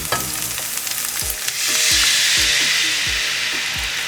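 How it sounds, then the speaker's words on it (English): Teriyaki sauce is poured into a hot pan of frying beef with green onion, garlic and ginger, bringing a loud surging sizzle, while a utensil scrapes and clacks against the pan in repeated stirring strokes up close. "Now I'm going to add my sauce into here."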